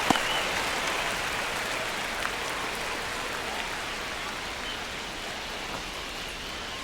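Steady roar of a baseball stadium crowd at a Cubs vs. Reds MLB game in a tense ninth inning, a dense, even wash of cheering and murmur with no clear voices.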